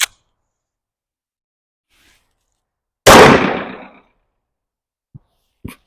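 A single loud, sharp 10mm pistol gunshot at a shooting range, firing Federal or Ammo Inc range ammunition, cracks out near and close, its blast decaying for about a second, followed by a couple of faint clicks.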